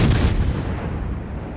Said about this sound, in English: I'm going to just fire away on this Kurfürst.